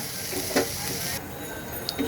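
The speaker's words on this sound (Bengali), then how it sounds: "সবজিটা কিন্তু আমার মোটামুটি ভাজা ভাজা হয়ে গেছে" Vegetables, water spinach stems, potato and spices fry in a pan over low heat, giving a constant close sizzle. A couple of soft stirring scrapes sit over it and no one speaks.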